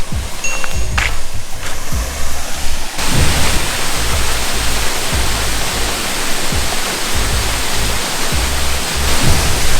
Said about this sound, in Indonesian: Di sini ada kayak air terjun tapi agak kecil.